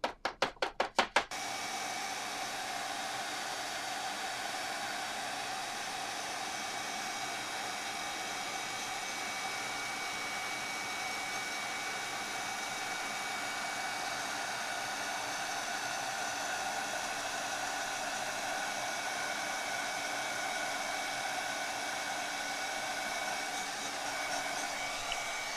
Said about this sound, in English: I will get my heat tool warmed up